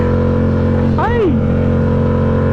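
A motorcycle engine revs during wheelie practice, a single sharp rising-and-falling rev standing out over a steady engine drone and loud background rumble.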